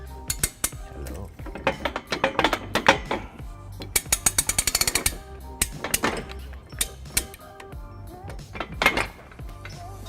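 A ratchet with a 3/4 inch socket snugs up trailer hitch hardware on a 2001 Chevrolet Impala, with irregular runs of quick metallic clicks and clanks close by over about ten seconds.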